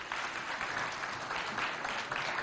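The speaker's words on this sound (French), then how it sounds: "on les applaudit encore" Applause from an audience at a school games event in Moundou, a steady dense clatter of many hands clapping at moderate distance, continuous through the short stretch with no voices standing out.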